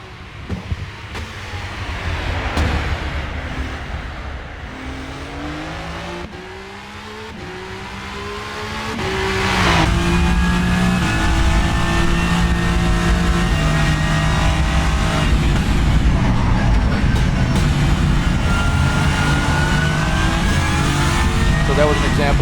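A race car lapping Sebring in the rFactor 2 racing game, its engine rising and falling in pitch through gear changes and hard braking, loud and continuous, with someone speaking over it.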